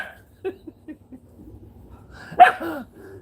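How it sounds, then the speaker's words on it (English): A dog barks close by in a home, a few soft yips and whimpers leading to one loud sharp bark, then a quieter trailing whine. "Sorry about the dog."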